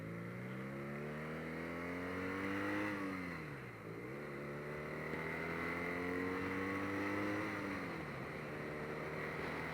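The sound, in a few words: 2018 BMW R nineT motorcycle accelerating on test ride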